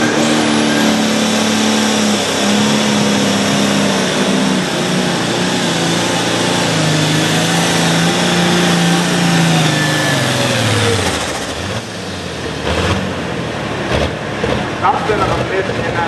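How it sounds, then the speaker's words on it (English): A loud tractor engine with a dead miss labors and revs with an uneven, stumbling note at a racetrack in Langford, New York, then drops off toward the end as a voice talks over it. "It sounds like he's got a dead miss in that engine."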